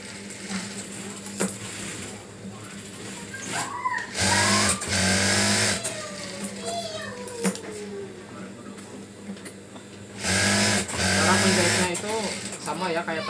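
A sewing machine stitches a fabric cover for a rice cooker in short, loud motorized bursts with gaps between runs, while someone talks over it.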